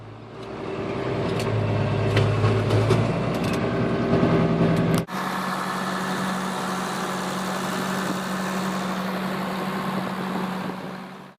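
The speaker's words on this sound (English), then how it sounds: "Here is what feeding cattle looks like from inside the tractor." A tractor engine hums steadily throughout while feeding cattle, heard from inside the cab, with a low idling drone and rattling clanks early on, then an abrupt shift to a smoother, constant running tone.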